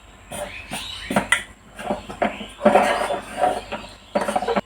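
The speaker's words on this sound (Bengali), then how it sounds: "অল্প অল্প আটা দিয়ে আমি নেড়ে নেড়ে" Flour is stirred into hot water in a pot to form dough, with a spoon producing repeated scraping and clattering strokes against the pot, close by and irregular in rhythm.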